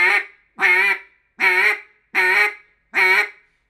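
Five loud, sharp quacks from a duck call, evenly spaced and close, with silence between each.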